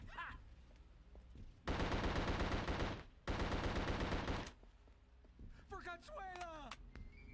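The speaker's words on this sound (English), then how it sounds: "Where are you shooting at?" Gunfire in the PS2 video game The Suffering comes as two long, loud bursts of rapid automatic fire, then quieter creature noises and shrieks follow.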